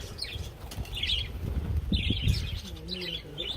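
Several small birds chirp and tweet in short bursts, fairly close, over a low rumbling background, at Cherry Garden Resort & Park in Kottiyoor, Kannur.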